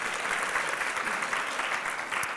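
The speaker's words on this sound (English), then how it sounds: "Everybody clap," A presentation audience claps on cue in a short, steady burst of dense applause with a faint cheer mixed in.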